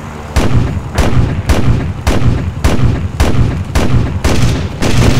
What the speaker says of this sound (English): Cannon's just come back up, so I only need a cannon really